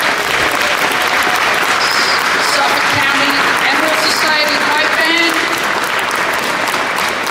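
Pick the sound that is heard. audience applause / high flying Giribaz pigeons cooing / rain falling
audience applause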